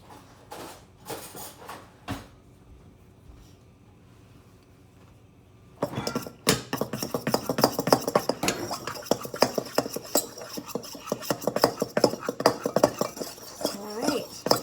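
A fork mixes dry ingredients for dumplings in a bowl, with a few sharp clinks early, then after a quiet gap a long run of quick, close scraping and tapping strokes, with some brief talk around it.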